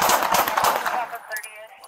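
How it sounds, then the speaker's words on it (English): Gunfire during a police shooting: a quick rattling burst of several shots close by, fading into echo. "Shots fired, shots fired!"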